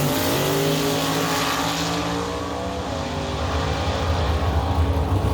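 A drag race car making its first pass right off the trailer roars loudly at close range, its engine a dense, sustained drone that shifts in pitch and builds near the end.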